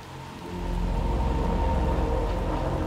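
Steady rain pours in the dark Little Nightmares II game world, a dense continuous hiss with low rumbling underneath that swells after a quiet start and then holds loud and even throughout, no voices.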